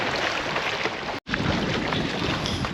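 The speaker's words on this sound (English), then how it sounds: "the wind's got up here and it's getting really chilly" Strong gusts of wind roar across the microphone beside a Scottish loch, a loud continuous buffeting rush broken by a split-second gap, with no speech.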